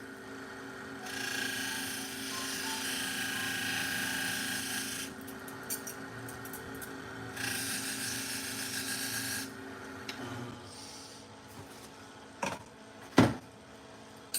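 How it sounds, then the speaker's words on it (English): Pet grooming shears being buffed during sharpening, a steady close rasping whir running in long stretches, ending in a few sharp clacks and knocks. "So just a little buffing."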